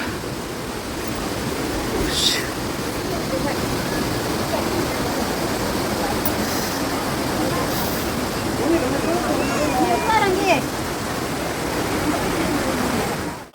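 Panchalinga waterfall at the Thirumoorthy hill temple roars as a steady, dense rush of falling water close by, with a few faint voices and whistle-like calls in the background.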